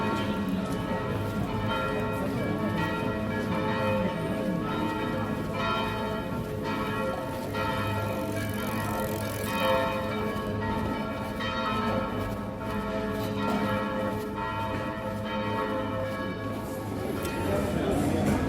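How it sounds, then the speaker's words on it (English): Church bells in Pisa ring for the Angelus at 6 o'clock in the evening, a sustained resonant peal with steady rhythmic strikes, while a voice talks over the ringing. "As the bells ring for the Angelus, that's 6 o'clock"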